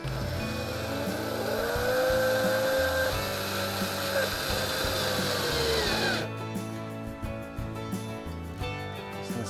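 A power driver whirs as it drives screws while an ice shack is assembled, with a rising and falling motor whine and a few short bursts, followed by quieter clicks and handling noises.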